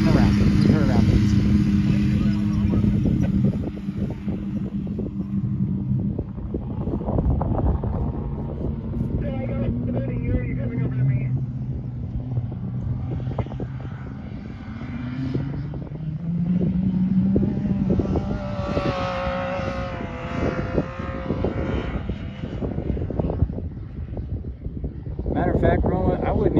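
Off-road vehicle engine revving and droning while driving on the sand dunes at Little Sahara, Oklahoma, with heavy wind buffeting the microphone and people talking over the running motor.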